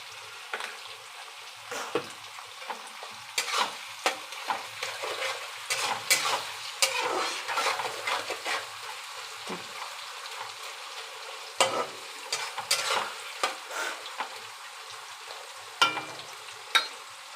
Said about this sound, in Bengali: পেঁয়াজটা যখন ভাজবো তখন তার সাথে নুনও দিয়ে দেবো